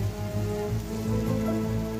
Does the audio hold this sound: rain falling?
yes